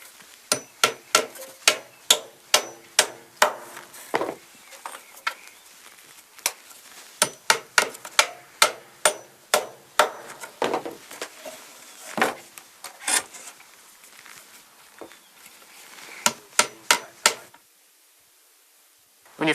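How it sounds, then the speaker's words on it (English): Sharp hammer blows drive nails into the wooden corners of a deep beehive super, striking in quick rhythmic bursts of loud close taps with short pauses between runs. "now I'm going to put 2 nails from the side into the ends, in between these 3"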